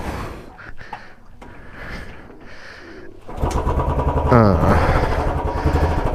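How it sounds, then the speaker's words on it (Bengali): A Royal Enfield Bullet motorcycle is kicked into life on a cold early morning, first some quiet shuffling, then the engine catches and settles into a loud, steady, thumping idle close by. "বাইক স্টার্ট দেওয়া যাক।"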